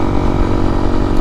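A Honda CRF300L motorcycle engine with an aftermarket exhaust runs steadily, a loud, close, continuous drone with a rough throbbing pulse throughout.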